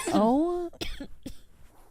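A voiced, drawn-out vocal sound is followed by two short, sharp coughs, fairly close and loud.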